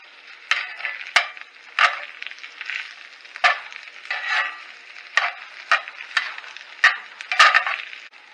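Egg being scrambled and stirred into rice in a pan for crow fried rice, with a steady sizzle broken by repeated scraping strokes of a utensil, close and moderately loud, with no talking.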